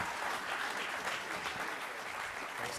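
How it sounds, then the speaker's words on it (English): Steady applause from an audience at a convention panel on collecting Star Wars prototypes, a soft, distant wash of many hands clapping evenly without pause. "Please give them a warm round of applause"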